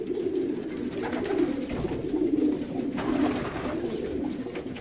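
Racing pigeons in their loft before pairing keep up a steady, overlapping murmur of low cooing, with several birds calling at once in a continuous, moderately close chorus.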